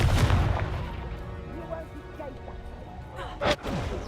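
In the video game Hogwarts Legacy, a Confringo blast spell goes off with a deep booming explosion and rumbling impact, followed by another sharp burst near the end, loud and close.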